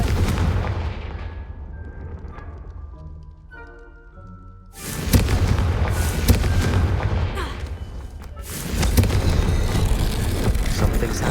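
Confringo fire spell explosions in Hogwarts Legacy: two loud, booming blasts a few seconds apart, each followed by sustained crackling rumble, heavy and close, after a quieter stretch of ambient game sound.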